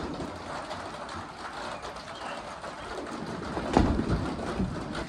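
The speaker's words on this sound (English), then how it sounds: "It's another rainy one." Steady rain falls outdoors on a farm on a wet day, a continuous broadband hiss with a low rumble that swells a little louder near the end.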